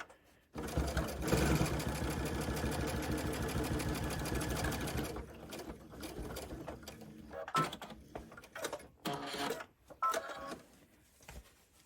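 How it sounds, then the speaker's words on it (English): A Babylock Aerial embroidery machine stitching an in-the-hoop wallet runs with a loud, steady rapid needle clatter for about five seconds, then stops and starts in short bursts while someone speaks briefly. "I'm sewing right across the blue, and now I'm going to come up."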